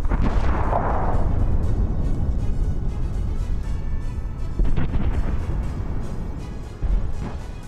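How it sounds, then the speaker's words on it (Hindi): Heavy explosions in Gaza rumble as a continuous, loud low roar, with a sharper blast near the start and further thuds later, distant-sounding and with no voices. "देखिए गाजा में भीषण विस्फोट और धुएं का गुबार नजर आ रहा है।"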